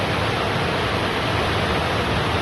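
Floodwater rushing through flooded city streets in Juiz de Fora, Minas Gerais, after heavy rain, a loud, steady, dense roar of churning water with no break and no voices.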